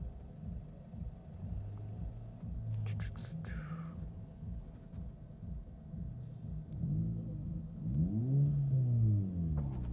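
A car engine rumbles nearby, then revs up in rising, surging bursts toward the end, with faint murmuring voices underneath.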